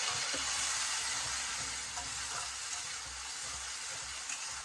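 Ginger paste sizzling and frying in a hot pan with whole garam masala, a loud, steady hiss that fills the whole stretch with faint stirring sounds underneath.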